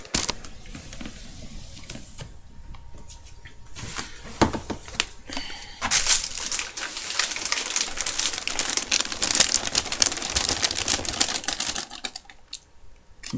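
Wrapping paper on a gift being handled and torn open close up, with continual crinkling, rustling and sharp tearing bursts, quieter at first and building to dense crackling in the middle.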